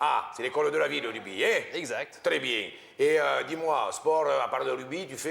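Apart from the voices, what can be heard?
None of the usual background noises is heard.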